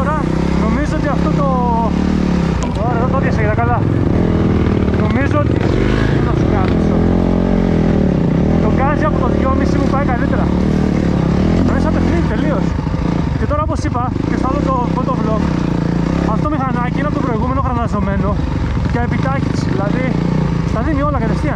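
An enduro motorcycle engine revs and buzzes continuously on a cold, rainy trail ride, loud and close beneath steady conversation between riders.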